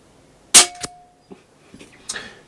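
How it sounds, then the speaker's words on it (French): One sharp, close crack from a Snowpeak M60 .22 (5.5 mm) air rifle, followed by a few fainter mechanical clicks and knocks, with no speech. "Pas mal de pouvoir faire du tir, on en tire quelques-unes quoi."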